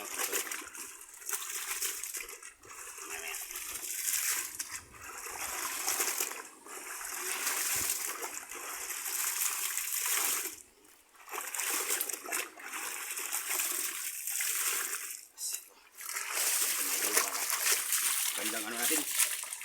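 Strong running water gushes and splashes in irregular bursts while laundry is rinsed, with sloshing and brief pauses between surges, close and fairly loud.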